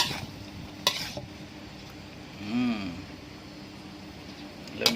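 Luffa and salted egg stir-fried in a pan with a splash of added water, giving a soft, steady scraping and low sizzle with a couple of sharp utensil clinks near the start and end.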